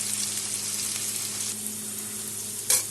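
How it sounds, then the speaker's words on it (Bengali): Potatoes fry with salt and turmeric in a steady, close sizzle, with a low hum underneath and one brief louder crackle near the end. "আলুটা এখন ভাজতে দেবো"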